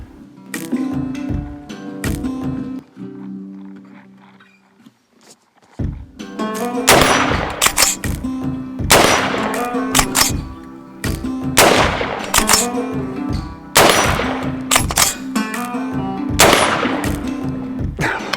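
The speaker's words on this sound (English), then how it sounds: "Today I'm checking out the Oceania Precision SP-15 tack rifle." An Oceania Precision SP-15 tactical rifle in .223 Rem fires a series of sharp, loud reports. The shots come at fairly regular intervals over a steady tonal backdrop.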